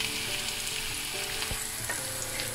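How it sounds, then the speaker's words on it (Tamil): Onion and green chillies sizzle in hot oil with popped mustard seeds, a steady close frying hiss broken by a few brief stirring scrapes, with no voices. "கடுகு வடித்த பிறகு வெங்காயத்தையும் பச்சை மிளகாயையும் சேர்த்து போடுங்கோ"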